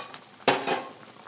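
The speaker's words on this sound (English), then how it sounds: "I need to turn this down a little bit because they are just boiling" Oatmeal steaks bubble and sizzle in broth in a pot, a soft steady hiss broken by a couple of sharp metallic clatters of a utensil or lid.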